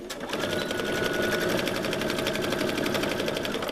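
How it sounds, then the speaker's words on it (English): A Baby Lock Elajo Plus sewing machine straight-stitches kitchen towels, its needle hammering out a fast, even, close-up mechanical rattle that runs steadily from start to finish with no voices. "my sewing machine is. It's a Elajo Plus. It's made by Baby Lock. And it sews just like butter."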